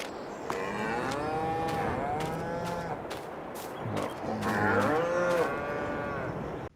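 Cows low in a farm pasture in Farming Simulator 22, several drawn-out moos overlapping and rising and falling in pitch, close and fairly loud, with no talking over them.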